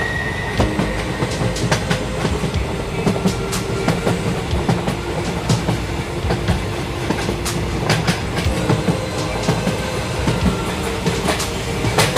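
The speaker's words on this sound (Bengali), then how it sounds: "এখন অসুস্থ ট্রেন চলে এসছে" Loud rumbling train arriving at a station, with rhythmic clickety-clack of wheels on rails, continuous and close, a faint tonal hum running underneath.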